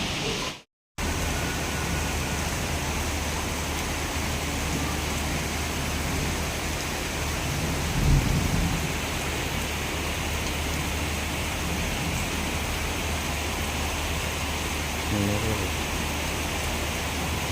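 Steady rain hissing without a break on a flooded road, with a couple of faint thuds partway through, and no voices.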